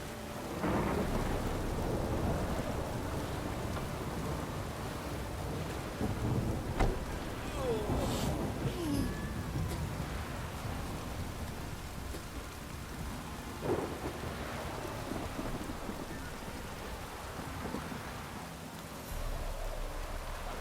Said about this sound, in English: Rains like this come summertime.